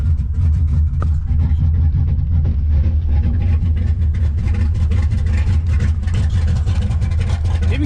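A drag race truck engine, clearly not running right, idles roughly just after starting, a loud, steady low rumble with a slightly uneven pulse filling the whole stretch.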